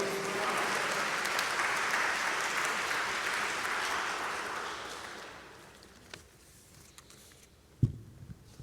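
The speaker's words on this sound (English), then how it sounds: "Please welcome our next presenter with a round of applause, Brother Student Minister Samad Muhammad." An audience welcoming a presenter gives sustained applause for the first five seconds, then fades to scattered claps and a few stray knocks near the end.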